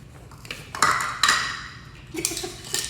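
A metal whisk clinks and taps against a bowl as strawberry cream cheese scone batter is mixed, giving scattered bright metallic pings in an irregular rhythm.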